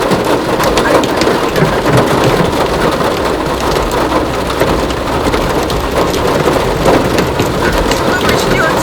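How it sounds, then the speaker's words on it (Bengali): Heavy rain mixed with hail pounds down during a storm on a road trip, a loud dense unbroken roar of drops striking surfaces with a deep thunder rumble underneath. "শুধু বৃষ্টি হচ্ছে না, শিলাবৃষ্টিও হচ্ছে।"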